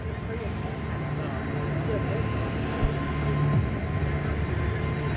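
A jet-powered 1940 Ford fire truck with afterburner roars at an airshow, a broad, steady, loud jet rumble and hiss holding throughout, with voices over it.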